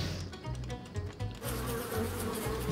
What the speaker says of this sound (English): Oh, there's the bees.